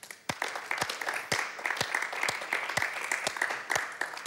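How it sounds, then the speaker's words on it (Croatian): An audience in a talk-show studio claps together for several seconds, a dense steady patter of many hands with a few sharper nearby claps standing out, with no talk over it. "Ovo je za aplauz."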